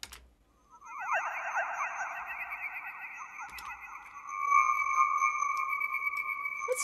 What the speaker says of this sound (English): It has kind of the warbly effect, but I would say a more shimmery effect, especially with the second modulator here